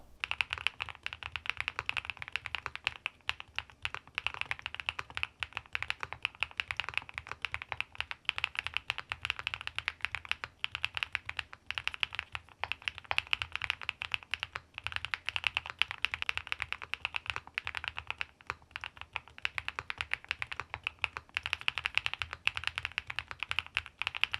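Continuous rapid clacking of a mechanical keyboard fitted with GMK keycaps being typed on, steady and close, with dense overlapping keystrokes throughout.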